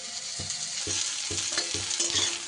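Cauliflower florets fry in hot oil in a pan, a steady close sizzle broken by rhythmic scraping strokes of a spatula stirring them roughly every half second; no one speaks.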